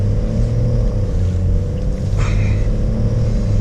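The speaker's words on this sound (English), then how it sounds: "It's an inline 6 with a twin scroll turbo." A BMW 340i xDrive M-Sport's inline-six twin-scroll turbo engine drones steadily from inside the cabin, a loud continuous low rumble with a smooth harmonic hum and no voices.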